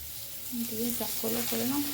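Taro leaves dropped into hot oil rendered from hilsa fish crackle and sizzle steadily, with a faint voice murmuring in the background.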